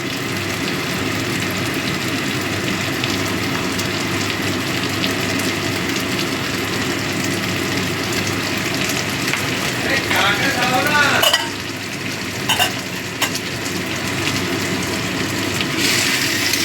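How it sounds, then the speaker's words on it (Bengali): Ginger garlic paste sizzles in a frying pan for kachki fish charchori while being stirred, a continuous loud frying hiss with scraping stirs and a brief burst of louder spattering partway through. "আদা রসুন বাটাটা দিয়েও ভালো করে মিশিয়ে দেবো"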